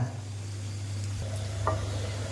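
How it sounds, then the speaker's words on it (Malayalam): Oil sizzling in a frying pan, a steady hiss with a low hum underneath and one brief clink, close by and without speech. "നമുക്കൊരു ശകലം എണ്ണ ഒഴിക്കാം. ഒരുപാട് എണ്ണയൊന്നും വേണ്ട കേട്ടോ."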